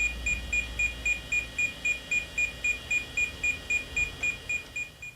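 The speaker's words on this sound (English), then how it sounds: "And the beeping is in no way annoying." Repeated computer beeping from a setup using a Paradise Basic VGA card: a steady series of short, evenly spaced electronic beeps, about three per second, clear and alone.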